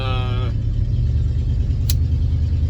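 A 1966 Chevrolet Bel Air station wagon cruises steadily with a constant low engine and road rumble filling the cabin, a brief tonal whine at the start fading into the drone.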